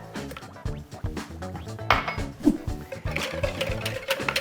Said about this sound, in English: we're going to whisk that together with 1 egg